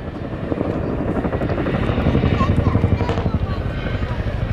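An RAF Chinook twin-rotor helicopter makes a pass of the flight line at the RAF Cosford air show in 2023, a loud, close rhythmic rotor thudding over a roaring engine drone, with a commentator speaking over it.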